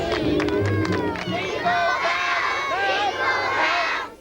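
A crowd gathered at a suburban Christmas lights display in Melbourne's Ivanhoe, waiting for Santa, cheers and shouts loudly in a burst of excited voices, with some clapping mixed in.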